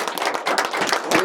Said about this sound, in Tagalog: Isang malakas na palakpak ang ating Panginoong Diyos.